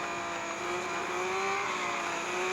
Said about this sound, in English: That is a nasty skid.